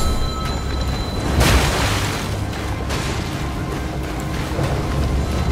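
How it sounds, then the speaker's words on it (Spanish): Incoming fire projectiles burst in the video game Elden Ring, a loud broadband boom near the start followed by a second softer blast, over a steady low rumbling game backdrop with no talking. "Pues mira cómo vienen los disparos."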